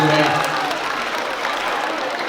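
An audience at a motivational talk claps together in a dense, steady burst that carries through the whole moment, with a voice briefly audible at the start.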